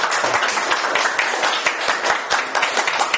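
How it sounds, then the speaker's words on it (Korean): An audience claps after a lecture at a party event, a steady wash of many hands applauding continuously, fairly full and even, with no one speaking over it. "다시 한번 우리 소중한 자리 해주신 홍사 선생님께 박수 한번 부탁드리겠습니다"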